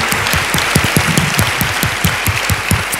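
A church congregation claps for Jesus during a sermon, steady rhythmic clapping with many hands, loud and close, continuing throughout without speech.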